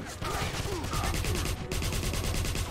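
Rapid automatic gunfire from a newly picked-up gun in the video game Wolfenstein (2009), a loud, dense stream of shots running nearly unbroken with one brief pause, over game music.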